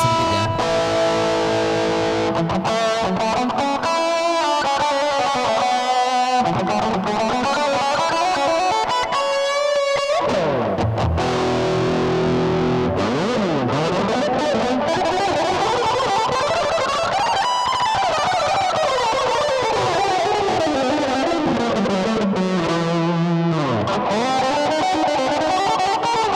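Electric guitar played through a Zoom multi-effects pedal on a rough, gritty distortion setting, a sustained run of chords and bending lead notes at steady high volume throughout, no talking.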